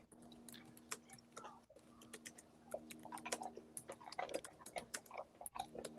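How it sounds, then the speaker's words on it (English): Dog crunching on food nearby, a rapid irregular run of sharp clicks and crunches over a faint steady hum, with a little quiet talk. "Can you hear Lucy chewing"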